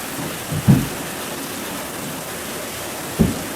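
Typhoon in the Western Pacific or Indian Ocean: steady, heavy rain hisses throughout, broken by two deep rolls of thunder, one early and one near the end.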